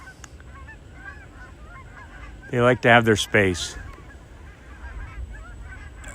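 Geese honking loudly at a barn in the snow, a burst of several harsh, nasal honks up close, with a person talking quietly before and after.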